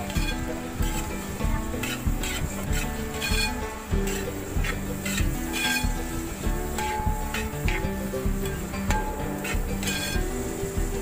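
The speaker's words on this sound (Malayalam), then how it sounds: "പിന്നെ ഒരു 8 പച്ചമുളകും കുറച്ച് വേപ്പിലയും കൂടി ഇട്ട് ശരിക്കും വഴറ്റിയെടുക്കുകയാണ്" Onions with green chillies and curry leaves sauté in a pan, a soft sizzle beneath repeated clinks and scrapes of a spoon against the metal, steady and close throughout.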